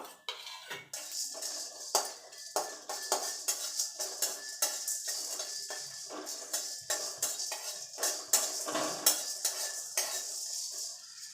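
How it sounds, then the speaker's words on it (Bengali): A metal spatula scrapes and taps repeatedly against a dry pan as whole cardamom, cinnamon, cloves, peppercorns, star anise and mace are dry-roasted, a busy rhythmic clatter close by with no sizzle. "এইগুলো দিয়ে শুকনো খোলায় একটু ভেজে নেব"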